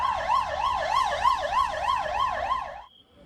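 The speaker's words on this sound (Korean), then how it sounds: "부상자가 속출하면서 아비규환이 된 화재 현장에 쉴 새 없이 구급차가 드나듭니다" An ambulance siren at a hotel fire scene with injured people, wailing in a fast, regular rise-and-fall cycle, loud and close, then cutting off abruptly near the end.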